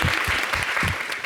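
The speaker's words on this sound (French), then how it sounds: "Wafa, qu'on applaudit." Audience applause at a French-language television show as a guest stylist is introduced, a steady dense wash of clapping with no voices over it.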